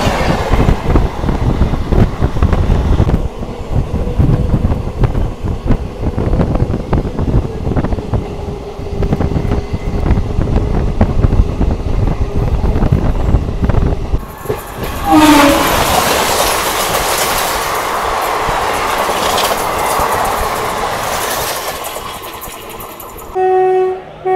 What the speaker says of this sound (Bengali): কন্যাকুমারী থেকে ডিব্রুগড় ভিভে এক্সপ্রেস।